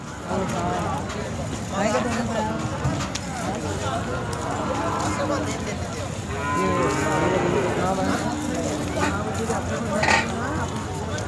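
Khillar cattle low repeatedly at the busy Sangola cattle market, with deep moos rising and falling while people talk nearby and market bustle fills the background.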